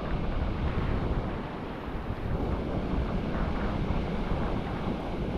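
Big sea waves surge and crash under strong wind buffeting the microphone, a steady loud roar filling the whole stretch with no voices.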